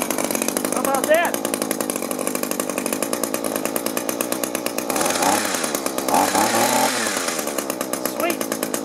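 A gas-powered hedge trimmer runs steadily at close range, its buzzing two-stroke engine holding a constant drone with a few rises in revs, while a person talks over it.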